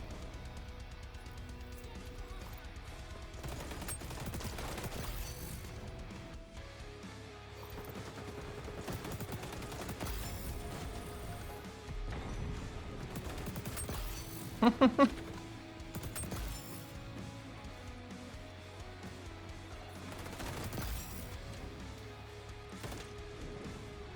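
Gunfire in the first-person shooter XDefiant sounds as rapid bursts and scattered shots under steady game ambience, moderately loud, with a few sharper cracks midway and a player talking over it.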